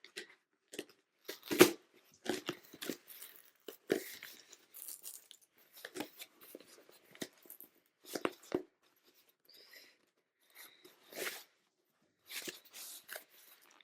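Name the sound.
opening a package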